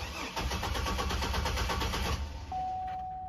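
A 2003 Chevrolet Trailblazer engine cranks with a steady rhythmic starter churn for about two seconds, then catches and settles into a running idle, accompanied by a steady electronic tone.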